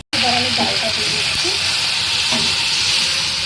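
Chana dal tipped into a hot pot sets off a sudden loud, continuous hissing sizzle after a brief moment of silence, with faint traces of a voice beneath it.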